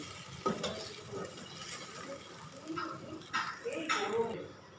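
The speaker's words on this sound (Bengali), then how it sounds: "এবার সবটাকে একটু ভালো করে নাড়িয়ে নেব" A spatula scrapes and stirs a potato and cauliflower curry in a pan over a low flame, with a few soft, uneven scrapes against a quiet background and a voice murmuring faintly underneath.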